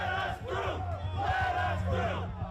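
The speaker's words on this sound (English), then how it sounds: "Trump allies Roger Stone and Alex Jones rile up the crowd on the eve of Trump's speech at the Save America rally." Crowd at the Save America rally on January 5th, the eve of Trump's speech, shouting and cheering in a loud, continuous roar with rhythmic chant-like swells.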